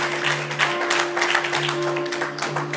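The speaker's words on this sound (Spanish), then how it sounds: "Dele un aplauso al Señor" A church congregation applauds during a Spanish-language sermon, giving steady, dense clapping over a sustained musical tone underneath.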